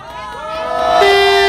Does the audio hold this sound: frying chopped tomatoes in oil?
no